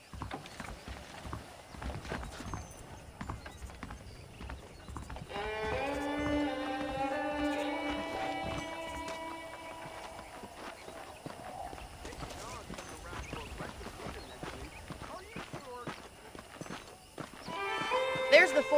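A horse's hooves clip-clop steadily while a rider travels in Red Dead Redemption, with a soft whinny partway through; the hoofbeats stay fairly quiet and sit under background music and someone talking.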